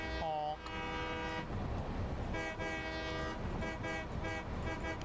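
In the video game Satisfactory, a train horn honks in several loud, sustained tones that start and stop in short bursts over a rumbling rail background.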